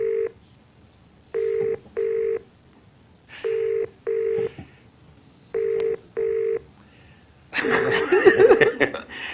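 A telephone rings in a meeting room during a Metro-North/LIRR committee meeting: six evenly spaced electronic double-rings, followed by a burst of chuckling and murmuring voices at the end.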